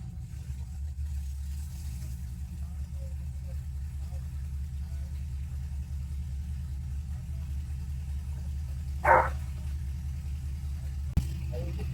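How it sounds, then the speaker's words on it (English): A C6 Corvette drift car with an LS engine and Haltech Rebel build runs at a steady, deep idle, its low rumble constant throughout with a couple of brief clicks and knocks. "So we just started up the car."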